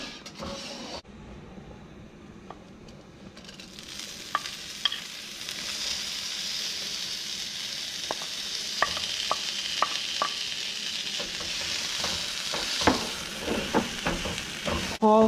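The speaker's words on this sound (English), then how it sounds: "Sauteing the garlic and the onion along with the rice." Garlic and onion sauté with rice in a hot pan for Querétaro-style Spanish rice, a steady sizzle building in loudness with occasional spoon scrapes and stirring clinks, close by, no talk.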